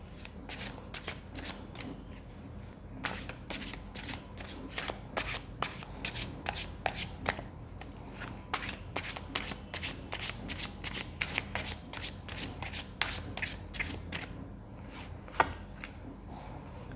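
A deck of tarot cards riffled and shuffled continuously at close range, producing dense rapid flicking and slapping bursts with brief pauses between runs, a soft room hum underneath.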